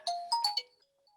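A mobile phone ringtone chimes in a short melodic burst of four bright tones, then fades out, heard alone and fairly close.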